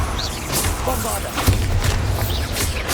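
Bombarda explosion spell going off in Hogwarts Legacy combat, a booming blast with crashing impact layered over busy game sounds, one sharp peak in the middle of continuous noise.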